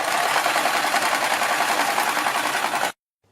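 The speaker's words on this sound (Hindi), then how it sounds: "थोड़ा थोड़ा कपड़ा दबाते हुए हमें अपनी कुर्ती पर नीचे तक ये सिलाई लगा लेनी है" A sewing machine runs steadily and loudly, stitching pin tucks down the front of a kurti, a continuous dense whir that stops abruptly near the end.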